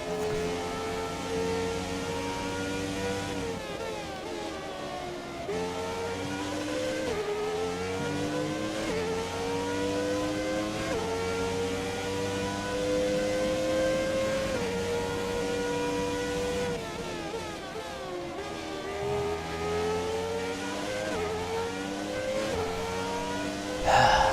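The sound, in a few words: F1 2017 video game race cars, McLaren approaching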